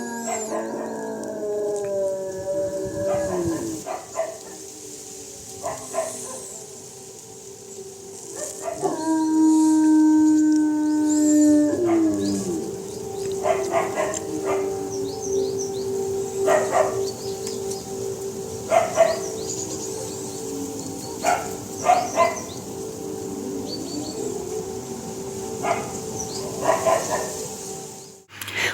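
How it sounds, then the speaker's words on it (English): Dogs bark and one howls in a long rising wail in response to an air raid siren's steady tone, while birds tweet in short chirps throughout, with the siren swelling loudest midway. "in addition to the dogs barking and one dog howling, you can hear the sound of birds tweeting throughout."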